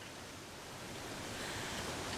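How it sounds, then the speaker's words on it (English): Steady broadband rush of water from a waterfall in The Long Dark, heard from the top of the falls as a continuous wash of noise that swells slightly louder toward the end, with no voices. "We might be at the top of the waterfall."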